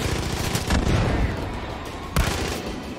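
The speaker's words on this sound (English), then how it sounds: "Shooting at me." Gunfire in Far Cry 5: a continuous, loud battle bed of rattling shots and booming impacts, with a heavier blast near the start and another sharp burst later, no speech heard.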